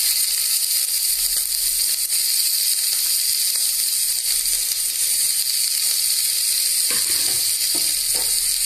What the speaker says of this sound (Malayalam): ഇത് ചൂടായിട്ടുമ്പോൾ ഇതിലേക്ക് ഓയിൽ വെച്ച് കൊടുക്കാം